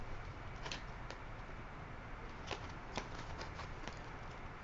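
Small tarot cards are shuffled and handled before a reading, giving soft, close riffling and flicking with a few sharper snaps, quiet and continuous with no talk.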